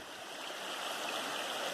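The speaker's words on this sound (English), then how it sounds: "Look at the beautiful stream." A stream on the Appalachian Trail in Maryland flows with a steady, even rush of water, close by and alone, with no breaks.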